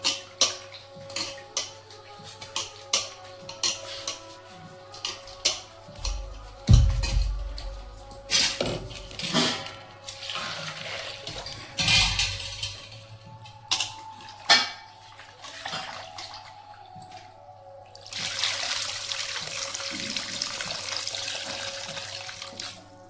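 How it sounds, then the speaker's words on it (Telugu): Tamarind water poured into a chicken curry in a pot, splashing in short bursts among clinking pots and metal utensils, ending in a longer steady pour close by. "ఇప్పుడు చక్కగా చింతపండు పులుపు పోసేస్తున్నానండి"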